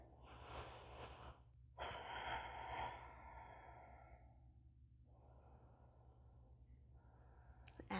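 Deep breaths during a yoga shoulder stretch, made up of two long audible exhales and inhales close to the microphone, with quieter breathing continuing afterward.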